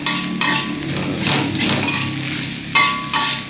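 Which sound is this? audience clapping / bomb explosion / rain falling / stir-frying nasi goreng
stir-frying nasi goreng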